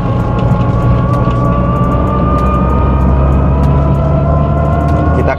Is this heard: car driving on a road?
yes